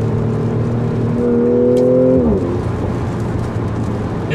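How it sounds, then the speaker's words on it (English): A Mercedes-Benz C450 AMG 4Matic T-Model wagon holds a steady engine tone, rises briefly, then blips down through a double-clutch downshift into burbling exhaust crackle, loud and close. "And it crackles, and now again double D clutch."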